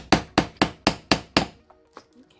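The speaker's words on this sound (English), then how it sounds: "Put the rounded end over the cap, and then hit the flat end with our hammer." A hammer strikes a rivet setter on a leather armor rivet cap, six sharp, evenly spaced, loud blows up close, followed by a few faint clicks and taps.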